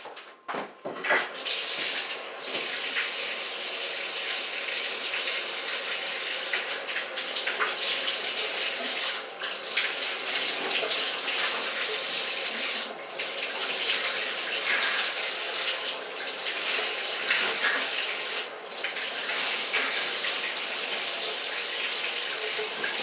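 Tap water runs steadily and loudly into a sink throughout while toothpaste is rinsed out of a mouth, a continuous close gush with small splashy variations and no speech.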